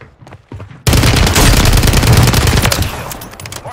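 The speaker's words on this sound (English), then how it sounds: "Friendly mortar strike inbound." Friendly mortar strike in Call of Duty: after a brief quiet stretch with faint pops, a sudden loud, dense barrage of rapid explosive blasts erupts and rumbles on without pause, gradually easing near the end.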